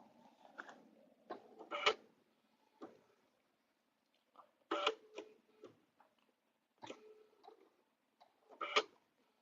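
A sewing machine runs short locking stitches while finishing a quilted table runner, giving quiet, close mechanical ticking in brief clustered bursts separated by pauses.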